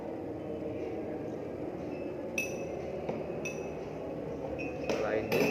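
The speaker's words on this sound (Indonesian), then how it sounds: "masukkan cuka 3 sendok tiap gelas" A spoon clinks against drinking glasses as vinegar is spooned in for a chemistry reaction-rate experiment, giving a few bright separate taps over a low room murmur, with a voice faintly present.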